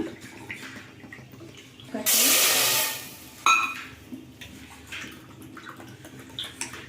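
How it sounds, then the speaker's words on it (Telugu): Water pours into a cooking pot for semiya sago payasam, about two cups' worth in one short rushing splash lasting around a second, followed by a light clink and quiet kitchen sounds. "నేను రెండు కప్పులు నీళ్ళు పోసుకుంటున్నాను"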